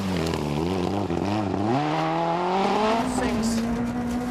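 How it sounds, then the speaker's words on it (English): Martin Rowe's Peugeot rally car charges along a rally stage, its engine revving hard through gear changes with rising and falling pitch, loud and close under continuous commentary. "Just watch Martin Rowe, really putting the Peugeot through its paces."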